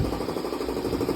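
An air compressor runs in a garage during work on a Honda Silverwing scooter, giving a steady loud mechanical churning drone with a rapid pulsing rhythm and no talk.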